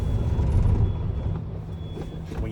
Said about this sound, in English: I'll shut my engine off.